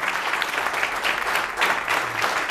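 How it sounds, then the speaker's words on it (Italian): Audience at a carnival press conference in Tempio claps steadily, a dense, even round of applause from a seated crowd lasting a few seconds with no voices over it. "Vi potete alzare in piedi, un applauso"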